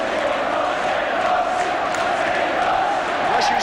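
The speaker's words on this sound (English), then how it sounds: "And listen to the crowd." Football crowd at an Everton v Liverpool Division One match, a steady dense roar of many voices filling the ground, continuous and loud throughout with no clear breaks.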